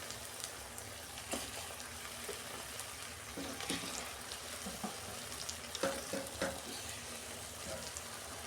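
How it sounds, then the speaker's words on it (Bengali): Bombay duck (loitta) fish added to spiced oil that has cooked down and released its oil in a home kitchen pan, a continuous close sizzle with scattered stirring clatters and pops. "এই যে মাছটা আমি দিয়ে দিচ্ছি।"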